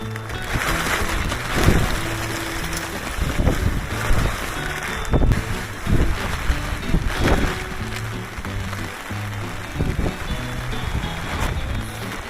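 Strong gusty wind buffets the microphone outdoors while building a chicken coop, a steady roar that swells and eases in waves, loud and close throughout.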